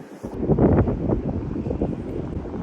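Wind gusting across an open coastal disc golf course, a loud rumbling buffet of air against the microphone that swells and fades over a few seconds.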